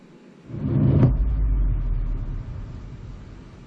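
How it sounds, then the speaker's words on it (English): A deep, rumbling synthesized bass drone swells in and sustains, with a brief brighter swish near the start, then slowly eases off. No voices. "This is kind of like an atmospheric, real bassy sound."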